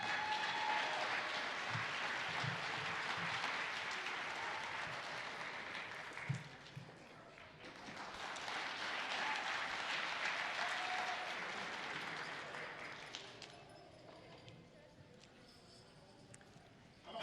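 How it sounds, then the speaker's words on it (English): An audience at a school's fifth-grade continuation ceremony breaks into sustained applause, a dense wash of clapping that dips briefly, swells again, then fades toward the end. "How about one more big round of applause for all of our fifth graders this year?"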